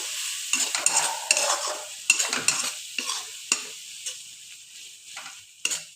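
Spice paste being sautéed in a pan, a spatula scraping and stirring through it with a soft sizzle and irregular sharp clinks against the metal, close and fairly loud, with no talking.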